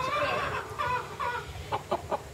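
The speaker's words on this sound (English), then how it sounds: "I'm here to wash my birds with Mr. Francesca" Show chickens cluck close by before a wash, giving several short, bright clucks and chattering calls in quick succession over low background noise.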